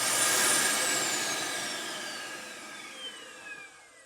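An RV central vacuum system in a 2026 Newmar London Aire runs with a loud, steady airy whine that slowly falls in pitch and fades over a few seconds, as if spinning down after being switched off.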